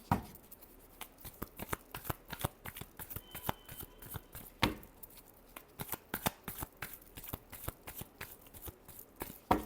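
A deck of tarot cards shuffled by hand, giving quick repeated riffling snaps and soft slides in an irregular rhythm. The sound is close and fairly quiet, with no voices.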